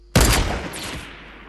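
Gunfire in the Fortnite video game during a duos-versus-squads match: a sudden loud, dense volley of shots that bursts in abruptly, then thins into a rattling, fading tail.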